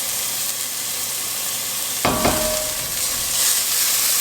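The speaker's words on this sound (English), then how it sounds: "Now I'm just going to add in my garlic." Garlic sizzles in a hot pan while cooking homestyle tomato soup: a steady, bright hiss with a sharp clatter and burst of spitting about halfway through as the garlic goes in.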